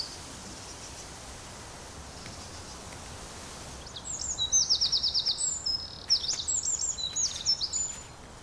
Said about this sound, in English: Quick as a flash, the birds move from place to place, essential for survival in open spaces.